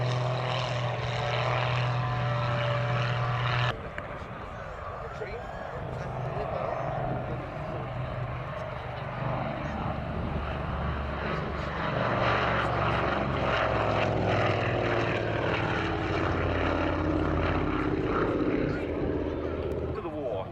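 A muscle biplane flown by a display pilot at an air show passes overhead, its propeller engine droning loudly and steadily throughout, with a crowd audible and voices mixed beneath the roar.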